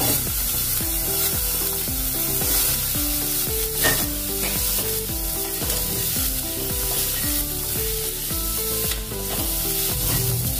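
Onions frying in a pan with spices for a wedding-style potato and aubergine curry, a steady close sizzle that runs throughout under background music.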